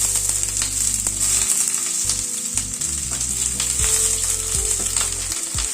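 Pointed gourd dropped into hot mustard oil in a wok fries with a steady, close sizzle and crackle. No one speaks as it runs on.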